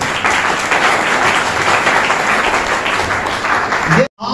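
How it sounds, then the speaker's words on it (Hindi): A seminar audience bursts into loud, dense applause that holds steady for about four seconds and then cuts off abruptly. "लास्ट बार एक बार अपनी तालियां मार लें"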